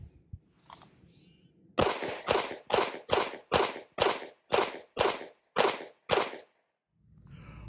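A Glock 45 pistol fitted with a Ramjet fires ten rapid, evenly spaced rounds, each a sharp loud crack, in a quick rhythmic string before falling silent.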